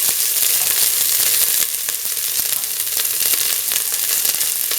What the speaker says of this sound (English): put in the shallots